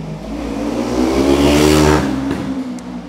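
A car accelerates along a street in Istanbul traffic, its engine rising in a steady, fairly close rev that swells and then eases off over a continuous urban background, with no talking.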